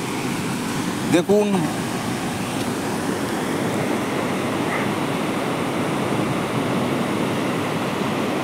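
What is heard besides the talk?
water released through the DVC barrage at Durgapur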